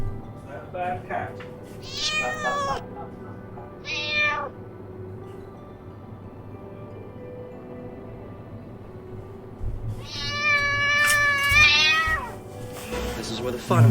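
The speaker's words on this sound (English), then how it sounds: "Definite cat fight." Cats fight in a game setting, yowling and meowing in several sharp, rising calls at intervals, with a longer, louder caterwaul near the end over a low background hum.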